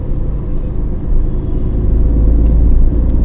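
A 2022 Tata Tigor driving in CNG mode, a steady low engine rumble and road drone heard from inside the cabin, continuous and fairly loud, with no talk over it.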